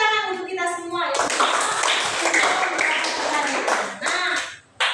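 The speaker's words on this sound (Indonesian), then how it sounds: "tepuk tangan untuk kita semua ya" A room full of people breaks into loud, sustained applause for a few seconds right after a voice speaks.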